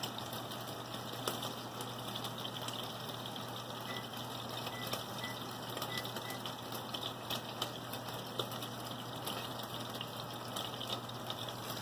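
Boneless skinless chicken thighs pan-fry in oil, giving a steady, even sizzle with a continuous hiss and faint crackles throughout, no voices.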